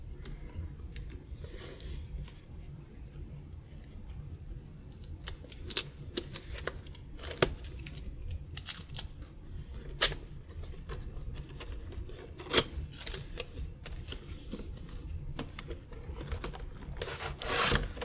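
Cardboard packaging of a Manba One v2 game controller box being peeled and opened by hand, giving soft rubbing, scraping and tearing sounds with occasional sharp clicks, close and steady throughout with no talking.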